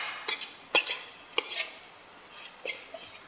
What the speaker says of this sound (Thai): เาแป้งเชื้อกับมันเทศให้เข้ากันค่ะ